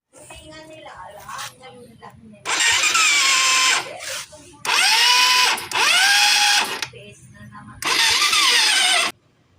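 Suzuki Raider 150 motorcycle with a repaired electric starter cranking and firing three times, each a loud whirring burst of several seconds, with talk between attempts.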